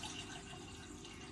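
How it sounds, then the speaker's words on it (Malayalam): A cup of water poured into a cooking pot on a lit stove while making an arrowroot breakfast: a steady, close splashing rush of liquid that runs unbroken for the whole moment. "ഒരു കപ്പ് വെള്ളം ഒഴിച്ചു."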